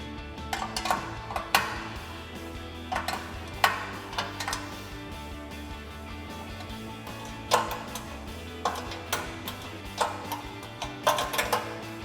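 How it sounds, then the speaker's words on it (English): Ratcheting 13 mm wrench tightening bolts on Barricade HD drop side step bars for a 2022-2023 Toyota Tundra, faint clicking bursts coming in irregular short runs with quiet gaps between them and no voices. "now we can tighten these down with a 13 millimeter ratcheting wrench"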